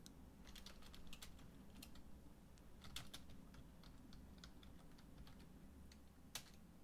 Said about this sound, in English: I'm struggling typing out the names.